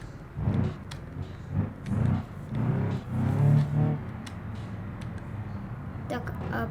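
A car in BeamNG.drive drives and accelerates, its engine rising in short revving bursts that come and go before settling into a steady low hum, while someone talks over it.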